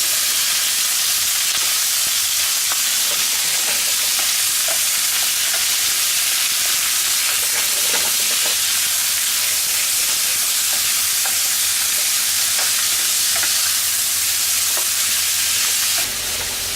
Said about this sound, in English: we'll add in our andouille